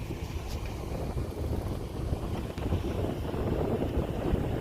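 Steady wind gusting across open water and buffeting the microphone during a kayak outing at low tide, a constant broadband rush with a low rumble and no voices.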